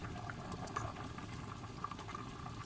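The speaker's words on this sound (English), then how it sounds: "this is the rice boiling" Rice boiling in salted water for breyani: a quiet, steady bubbling with soft popping patter, close by and continuous, with no talking.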